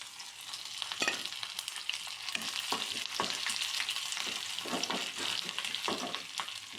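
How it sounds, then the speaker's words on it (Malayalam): Chopped ginger and garlic fry in oil with mustard seeds and curry leaves for a gooseberry pickle, a loud, constant close-up sizzle with crisp crackles and occasional stirring scrapes. "ഇഞ്ചി വെളുത്തുള്ളി നന്നായിട്ട് മൂത്ത് വന്നിട്ടുണ്ട്"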